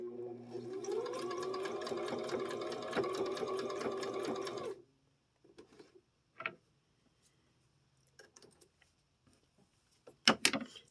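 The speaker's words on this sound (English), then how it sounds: "So we're going to sew off now." A sewing machine stitches fabric seams in a steady, fast mechanical chatter for several seconds, then stops, leaving quiet handling clicks and a few sharp knocks nearby.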